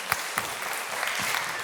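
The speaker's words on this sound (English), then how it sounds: "let's give a huge round of applause for Taslima, who has been hosting you all." Audience applause at an awards celebration, a steady wash of clapping from a crowd, moderately loud and continuous for a short stretch.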